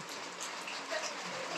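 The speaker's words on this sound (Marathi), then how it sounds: "पाऊस खूप जोरात चालू झालाय" Heavy rain falls on a rural roadside in Karnataka near Kemmangundi, a soft, even hiss of drops that stays constant and fairly faint, with no speech.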